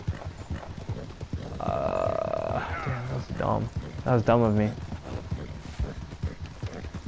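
A horse in a video game clops and whinnies in short bursts while someone talks over it.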